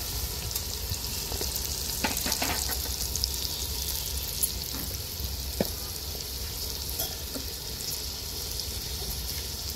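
Pieces of fish fry in a pan with ginger and coriander powder for a raw tamarind fish curry. A steady, low crackling sizzle runs throughout, broken by scattered sharp ticks and clinks from the utensil.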